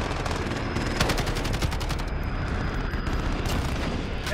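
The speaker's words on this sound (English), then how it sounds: "we're taking some fire" Enemy gunfire rattles through a shooter video game: rapid, loud bursts of automatic shots crackle one after another in a dense, continuous volley, with no voices over it.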